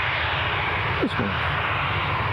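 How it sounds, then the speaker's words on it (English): Ryanair Boeing 737 bound for Faro at Newcastle Airport, a steady broad engine roar holding at a constant level throughout, with a brief voice over the top. "Our Faro-bound Ryanair 737."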